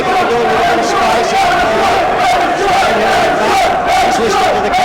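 A football crowd roars from the grandstand at a local league match, a loud sustained swell of cheering and shouting with a commentator's voice running over it throughout.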